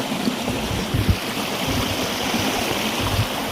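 A stream flows just behind an outdoor cooking spot in Sunda, a constant broadband rush of water with faint low knocks and splashes now and then, fairly close and steady throughout.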